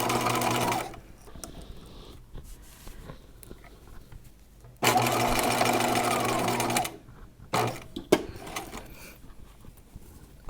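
A sewing machine stitches a gown in the round in two distinct loud runs with a few brief bursts after, separated by quieter stretches, close and clear with little talking.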